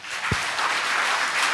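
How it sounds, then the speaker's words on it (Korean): An audience applauds at a Buddhist monk's live question-and-answer session, a steady wash of clapping that fills the whole moment with no talk over it. "박수."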